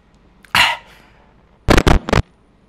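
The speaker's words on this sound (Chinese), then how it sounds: "我都咳嗽了一下" A player coughing while playing the horror game Don't Scream: one short cough, then a quick burst of three harsher coughs, close and loud against near silence.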